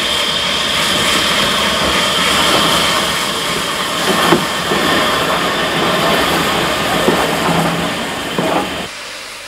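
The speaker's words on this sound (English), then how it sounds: "Latterly, power was provided by 4 powerful 262 tank engines." Spanish narrow gauge steam train in March 1965, hauled by a powerful 2-6-2 tank engine, rumbling steadily with a broad roar and a few sharp knocks, fairly loud and close, cutting off abruptly near the end.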